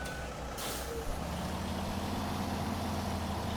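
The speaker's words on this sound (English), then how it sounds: "Come on, Kenworth, you got this." A Kenworth T880 truck in SnowRunner rumbles steadily at a low idle with a brief hiss of air near the start, a loud continuous engine drone that carries on throughout.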